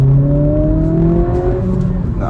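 A 2023 Acura Integra A-Spec accelerates hard, its engine note rising steadily and loud from inside the cabin, with a voice briefly speaking over it.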